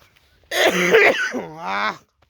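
A single rough throat clearing, close and loud, with a cough-like burst that trails into a strained, voiced rasp, all within about a second and a half and surrounded by near silence.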